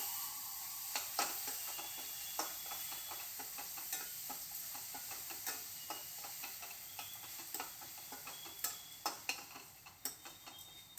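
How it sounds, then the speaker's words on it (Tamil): A spoon stirs ground gooseberry into a rice mixture in a pan over a low flame, giving soft scraping and intermittent light clicks over a faint hiss, quiet and close with no talk. "சேர்த்துட்டு ஒரு 2 நிமிஷம் நல்லா கலந்து விடுங்க லோ ஃப்ளேமில்"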